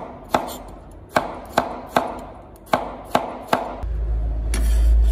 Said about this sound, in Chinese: 一条去皮的丝瓜也给它切滚刀块